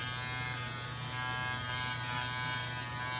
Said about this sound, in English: Look, it's shaving the little ear hairs off